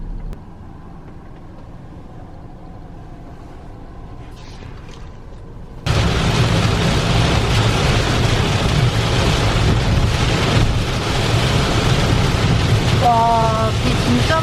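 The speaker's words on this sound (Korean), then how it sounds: "와, 비 진짜 많이 온다." Heavy rain hitting a motorcycle rider on the road during a solo moto-camping trip, a loud dense roar that starts suddenly partway through after a quieter stretch and carries on with wind buffeting.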